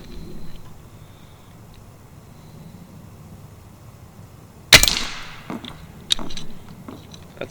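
A single sharp, loud crack from a Hatsan Model 135QE .25 caliber air rifle firing Air Arms pellets outdoors, followed by a few fainter knocks and clicks in otherwise quiet surroundings.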